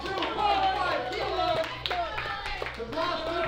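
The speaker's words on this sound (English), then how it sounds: "The crowd's making some noise." Spectators at a national powerlifting meet clap and cheer as a lifter steps up to a loaded barbell. Scattered, lively applause runs beneath a commentator who speaks steadily over it.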